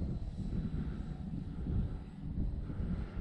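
A radio-controlled model Mustang propeller plane drones steadily overhead, its engine hum rising and falling slightly as it flies, with light wind noise.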